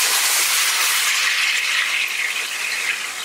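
Tomatoes tossed into a pan of hot oil with lightly fried garlic sizzle in a loud, steady, close hiss that fades slightly toward the end, with no talking.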